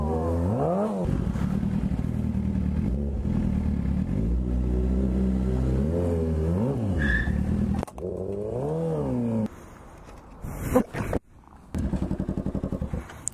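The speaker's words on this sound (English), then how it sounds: "Your bike sounds fucking horrible." A motorcycle engine roars and revs repeatedly, rising and falling in pitch, loud and close, ending in rough clattering idle.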